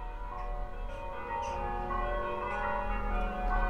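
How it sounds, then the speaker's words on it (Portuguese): A church bell in Villafranca di Verona, Italy, rings out with several slow, resonant strokes, each leaving a long humming decay under steady ambient noise. "Pequena pausa para o sino, que eu acho a coisa mais linda."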